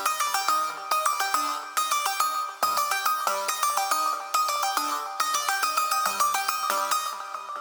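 Simple looping melody for a beat made in music software, bright plucky synth notes repeating in a quick pattern with a few low notes underneath, loud and alone.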